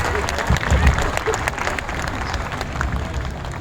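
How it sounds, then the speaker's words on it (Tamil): Audience clapping at a ceremony, a steady wash of applause from a crowd with a few louder low thumps early on, moderately close and continuous. "அப்படி உங்களுடைய தூக்கத்திலேருந்து வெளியே வந்து கைதட்டுறீங்களா?"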